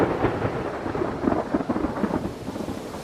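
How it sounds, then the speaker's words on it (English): Thunderstorm at sea with steady heavy rain and low rolling thunder, a continuous dense roar that swells and surges in loudness throughout, with no voices. "We'd not made it half a day out of port when a storm had descended upon us."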